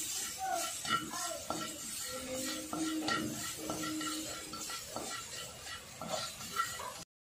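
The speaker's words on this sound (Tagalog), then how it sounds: "Ang una natin gagawin is to saute the garlic." Garlic sautés in a small amount of oil in a pan, a soft, steady sizzle with scattered stirring clinks, heard faintly under a person talking.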